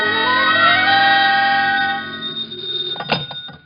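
Telephone ringing as a sound effect in an old-time radio detective mystery, a sustained bright bell tone that fades out, followed by a few sharp clicks like a handset being lifted, close and loud.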